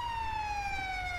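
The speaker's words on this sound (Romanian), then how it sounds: "Ambulanțele pleacă." An ambulance siren in GTA 5 wails as a single steady tone that slowly drops in pitch as it drives away, heard alone over low background rumble.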